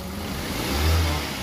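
A car engine treated with an oil additive runs steadily with a low, close rumble that swells briefly mid-clip as if lightly revved, with no voices.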